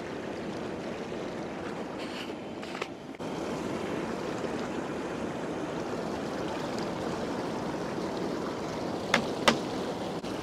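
Inflatable hot tub with its bubble jets running, a steady broadband fizzing, churning water rush that stays even throughout, with a couple of faint clicks near the end.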